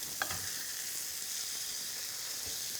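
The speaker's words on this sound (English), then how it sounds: "Now you turn over the oiled side into the pan, and it's got to make a noise." Oiled side of food sizzling steadily in a hot frying pan, a constant close hiss with a brief crackle as it lands, no talking.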